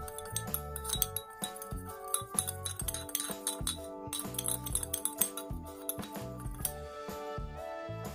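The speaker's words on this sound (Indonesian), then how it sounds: "Kemudian kita aduk hingga keduanya tercampur secara merata." A spoon clinks repeatedly against a glass as a starfruit herbal remedy is stirred with sugar, the bright taps quick and close, over soft background music.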